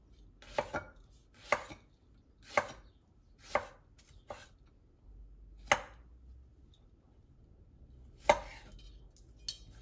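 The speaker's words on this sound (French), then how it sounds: "Et maintenant, on va les couper en rondelles, assez fines" Knife chopping radishes into thin rounds on a cutting board, sharp separate thuds coming in a slow irregular rhythm of about eight close, clear strokes with quiet gaps between them.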